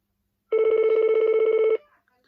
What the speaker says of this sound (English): hang on a minute, that's the phone.